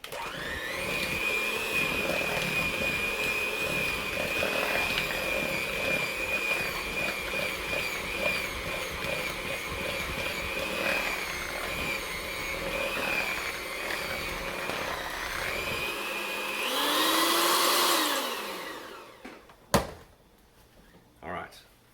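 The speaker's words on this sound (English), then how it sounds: "I'm going to use this electric beater to mix it all together" An electric beater whirs steadily through sticky vegetable fritter batter, a continuous buzzing drone that rises briefly toward the end, then cuts off and is followed by a couple of knocks.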